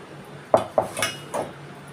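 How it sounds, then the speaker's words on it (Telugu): During straining of blended watermelon juice, metal utensils clink against a pot or dish in three or four short, sharp knocks close by, with quiet pauses between them. "మిక్సీ పట్టిన జ్యూస్ని వడగడదామండి."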